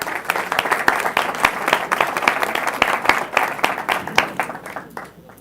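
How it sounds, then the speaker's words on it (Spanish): An audience applauds the people of Isagen with loud, dense clapping that carries on steadily and then thins out and fades near the end. "un aplauso para la gente de Isagen"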